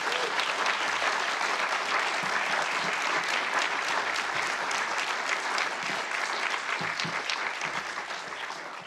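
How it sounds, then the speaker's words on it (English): Sustained audience applause for panelists at an MLK celebration event, dense steady clapping filling the room for several seconds before tapering slightly at the end. "Can we have a round of applause for our panelists?"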